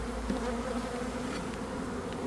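A dense, even buzz rises from honey bees in an opened hive during a split, with many insects droning together close by and a faint low rumble underneath.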